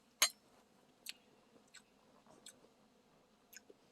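Close, quiet chewing of rice mixed with mushrooms, soy sauce and Spam, with a few soft crunchy bites at irregular intervals over a low background.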